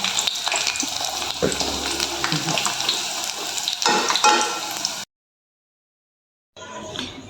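Bola-bola meatballs frying in oil over low heat, a steady close crackling sizzle with occasional stirring clatter, cutting to silence before a short sizzle resumes.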